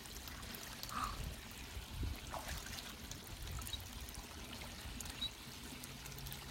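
A Great Dane swims in a warm backyard pool, and water sloshes and trickles steadily close by with no voices.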